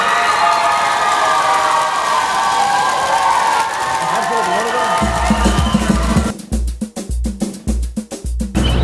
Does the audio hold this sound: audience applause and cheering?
yes